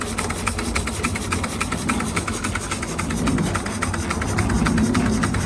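A large Josef Falk 456/4 Lokomobile model steam engine running slowly on its first steaming, giving a steady close mechanical chuffing and clattering with an even, rapid rhythmic ticking over a dense rumbling bed, with no talking.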